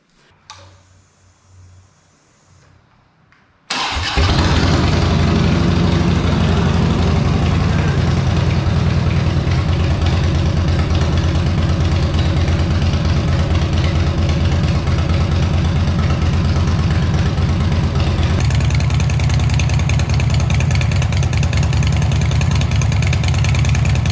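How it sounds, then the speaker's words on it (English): After a few quiet seconds a freshly built Dyna motorcycle engine abruptly starts and settles into a loud, steady, rumbling idle that continues close by without letting up. "Bike runs awesome, fired up, no problem."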